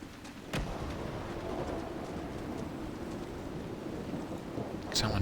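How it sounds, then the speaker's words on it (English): A sharp crack of lightning followed by rumbling thunder sounds in Dragon Age: Inquisition, set over steady rain and wind that hiss throughout, with a second bright burst near the end. "Someone just got struck by lightning, too."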